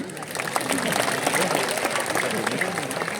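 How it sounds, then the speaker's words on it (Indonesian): A large crowd gives dense, sustained applause at the evening opening of the Bali Arts Festival, a steady wash of clapping throughout. "Tepuk tangan lagi untuk Bali."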